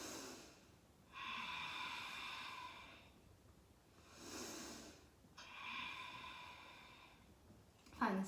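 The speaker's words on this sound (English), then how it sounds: "it makes your breath sound like a wave on the inhale and exhale" Slow ujjayi-style ocean breathing with the tongue drawn toward the back of the throat, long hissing wave-like inhales and exhales alternating evenly, close but soft, with no talking.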